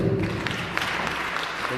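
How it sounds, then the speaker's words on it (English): Brief burst of audience applause at a Northern Cape crime indaba, scattered clapping from the crowd at moderate volume over a low room murmur. "A round of applause."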